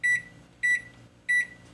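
A kitchen appliance gives three short, high, clean electronic beeps, evenly spaced about half a second apart, as its timer button is pressed, close and clear with no talking.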